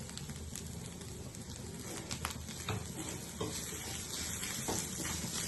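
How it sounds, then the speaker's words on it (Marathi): Spicy Maharashtrian green chilli thecha sautés in a little oil in a pan. There is a soft, steady sizzle with occasional light stirring scrapes, faint and close, with no talk. "हे चांगलं परतून घ्यायचं आपल्याला."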